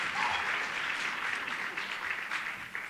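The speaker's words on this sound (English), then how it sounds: "One more round of applause for the Kappas." Audience applause after a Kappa sorority stage performance at a student union event, a full, even wash of clapping from many people that carries on without letup.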